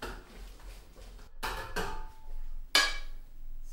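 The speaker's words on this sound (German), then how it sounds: "hier schmilzt auch gerade schon mein Zucker und die Butter und das verrühre ich jetzt erstmal" A spoon stirs melting butter and sugar in a pot, giving a few sharp clanks and scrapes against the metal in between quieter stirring, close and with no talking.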